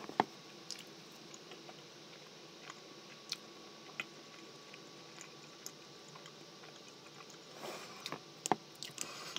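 Quiet, close mouth sounds of biting and chewing canned sardines packed in oil, with soft wet clicks and squishes scattered over a low background hiss and a brief cluster of louder smacks near the end.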